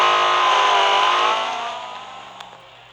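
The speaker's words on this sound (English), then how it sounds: "Up next is my 2010 Porsche 918 RSR Concept." A 2010 Porsche 918 RSR Concept race car in the Real Racing 3 game revs hard and loud, a high, dense engine whine that holds strong and then eases off toward the end, with no voices.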